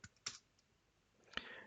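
A few faint, scattered keystrokes click on a computer keyboard while a command is typed into a Linux terminal, each tap quick and quiet, with near silence between them.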